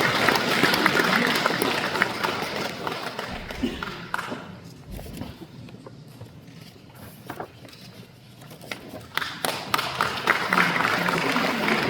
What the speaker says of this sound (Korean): 박수로 맞이해주시면 고맙겠습니다.